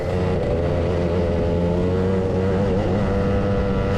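A race car engine drones at moderate, steady revs, its pitch wavering slightly as it eases along, loud and close throughout.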